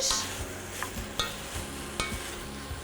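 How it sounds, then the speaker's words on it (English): Soup ingredients for cream of cauliflower soup are stirred in a pot with a soft sizzle and occasional scraping knocks of the spoon, close up and without any talk. "I'll just stir that until it's nice and evenly coated."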